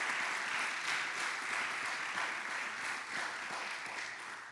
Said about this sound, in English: I want for the students just to give a round of applause for the faculty, the staff, and the coaches